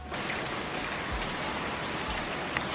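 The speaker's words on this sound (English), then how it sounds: "it hasn't stopped raining outside" Steady rain falls outside, a continuous soft hiss of drops hitting surfaces, even and unbroken throughout with no voices.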